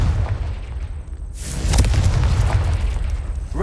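A Confringo blasting spell in Hogwarts Legacy goes off as a loud, close explosive boom with a sharp burst, then a sustained rumbling roar, over constant low background noise.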